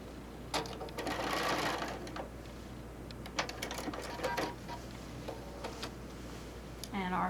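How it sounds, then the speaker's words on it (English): A sewing machine stitching across a quilt seam in short bursts of rapid mechanical clatter, fairly faint, with pauses and light handling noises between runs. "we'll line that up and we'll sew a few stitches across the seam there"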